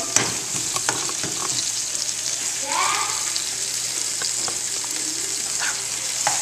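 Bagoong shrimp paste being stirred in a pan, a steady close frying sizzle with scraping strokes throughout, a brief swishing passage midway.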